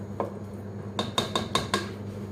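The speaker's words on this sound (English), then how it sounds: "Give that a good mix." A spoon scrapes and knocks against a pot of chilli con carne as it is mixed, five quick metallic clinks in a steady rhythm after one lone tap, close and clear over a low kitchen hum.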